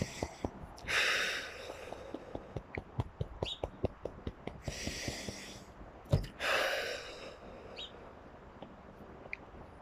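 Rapid forceful breathing exercise through the nose, a quick run of sharp regular snorting exhales with a few louder gasping breaths between, close and clear with no talking.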